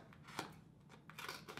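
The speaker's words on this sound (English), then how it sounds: "Oh, can it cut through cardboard?" Safety scissors cut through cardboard up close, with a few dry snipping and scraping strokes at an uneven pace and no talking.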